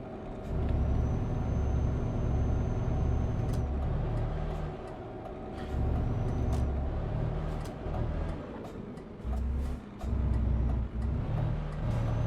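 A heavy truck brakes in Euro Truck Simulator 2 on the Kirkenes mine road, with a loud, steady diesel rumble that drops away in several abrupt stops. Sharp air-brake hisses and clicks sit over the engine drone.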